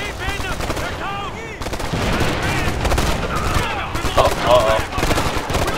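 Rapid gunfire and automatic bursts in the co-op shooter Ghost Recon Future Soldier, Barents Sea mission, crackling steadily throughout, with voices talking over the shots.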